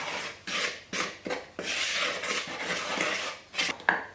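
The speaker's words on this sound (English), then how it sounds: "And just give this a good stir so that all of those ingredients are combined." Gluten-free naan dough ingredients speckled with nigella seeds stirred in a bowl, a close series of rhythmic rasping, scraping strokes repeating roughly every half second with no talking.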